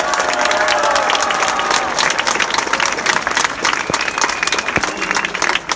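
A crowd at a Poznań rally in defence of judicial independence breaks into loud, sustained applause and clapping, with scattered cheers, for several seconds.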